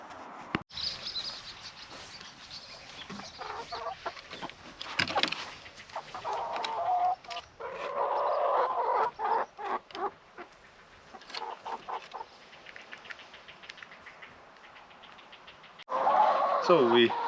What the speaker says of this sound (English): We have two of these Sussex, so these are pullets, so they're only young chickens, so they're starting to lay now.